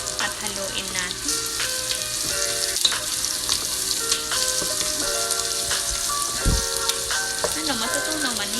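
A seasoned soup base for Arabic-style chicken soup fries and is stirred in a pan, giving a loud, steady sizzle with occasional scraping strokes and a faint tonal background throughout.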